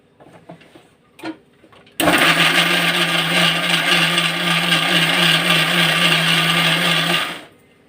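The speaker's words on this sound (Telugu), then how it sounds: "మిక్సీ చేసుకుందాం" Mixer grinder blending star fruit with four kinds of leafy greens, dried red chillies, sugar and water into chutney, a loud steady whirring motor running for about five seconds with no talk, then stopping.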